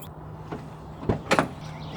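An armored Subaru coin car's door is unlocked with a key and opened: a soft click, then a sharper clunk and a pair of quick metallic latch rattles, close and moderately loud, no speech.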